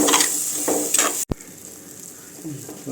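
Ground coconut paste being stirred into a sardine fish curry in a clay pot, giving a steady sizzle with scraping stirs and a brief sharp knock partway through.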